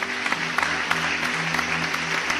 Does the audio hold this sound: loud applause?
yes